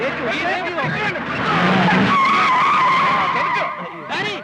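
Tires screech loudly and continuously as a car skids under a hard handbrake stop, a sustained squeal close by with engine noise underneath.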